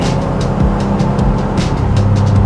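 A Subaru WRX STI driving through canyon roads, heard from inside: a loud, steady engine drone with rising and shifting pitch as revs change, plus faint rattling from loose items.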